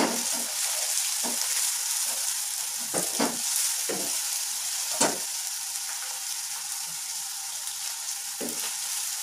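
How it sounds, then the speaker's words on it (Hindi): Ginger and garlic fry with onions in a pan for palak gosht, giving a steady close sizzle broken by scattered clicks and scrapes of stirring. No one talks over it. "अब ये अदरक और लहसुन है, ये 3-4 मिनट के लिए भूनेंगे ताकि लहसुन की स्मेल खत्म हो सके।"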